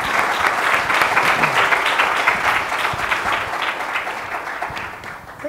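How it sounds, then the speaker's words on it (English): Sustained audience applause for panelists on stage at a live app economy panel event, dense clapping throughout that fades slightly near the end. "big round of applause for our panelists here"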